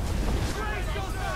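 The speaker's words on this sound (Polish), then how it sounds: "Aha, niebezpieczne fale." Rough sea waves and gusting wind in Assassin's Creed IV: Black Flag make a brief, loud rushing wash with low surging rumble around a sailing ship.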